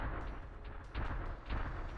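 Muffled booming video game explosions go off in quick succession, a few heavy thuds over a low rumbling background.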